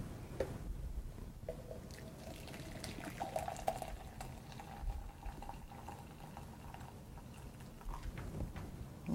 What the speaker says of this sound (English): then we'll pour our coffee, about 300 milliliters in each container